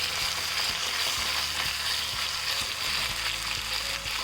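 Pieces of suran, or elephant foot yam, fry in a pan with a constant loud hiss and occasional soft taps from the stirring, and no talking.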